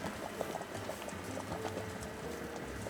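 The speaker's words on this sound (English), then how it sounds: "We simmer without the lid for half an hour for it to reduce." A Japanese-style beef stew braised with nori seaweed simmers uncovered in a pot, giving a steady, close bubbling and popping texture that continues without pause and without speech.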